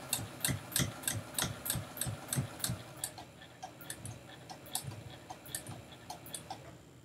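A sewing machine stitches slowly around the curve of a seam with a half-inch seam allowance, giving a steady run of close, even ticks that soften and become sparser partway through.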